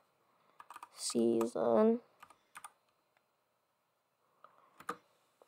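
Computer keyboard typing in a Fortnite Chapter 4 Season 4 gaming session: scattered bursts of key clicks at moderate level around a short stretch of speech, with quiet gaps between bursts.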